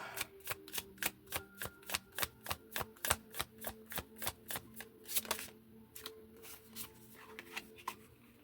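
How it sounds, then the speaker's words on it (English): Tarot cards shuffled up close in a fast, regular series of crisp riffling snaps, about twenty strokes in a row, then a few slower, softer shuffles toward the end. "I want to pull tarot. So let's pull."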